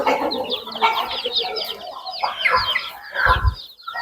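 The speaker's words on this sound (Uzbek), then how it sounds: "Mana o'sha Andijon qorani jo'jalari." Young Andijan black chicken chicks, hatched from the farm's own hens, cheep and chirp in a dense, overlapping chorus of high, rapid peeps, with a few louder, lower clucks near the end and no talking.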